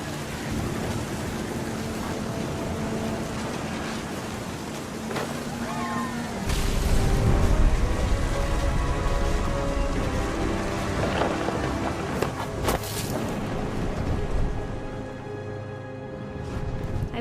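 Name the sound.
rain and thunder in video game What Remains of Edith Finch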